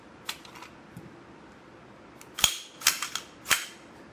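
A Ruger P90 .45 ACP pistol is dry-fired with double-action trigger pulls, giving a few sharp, close metallic clicks with short gaps between them and no talk over them.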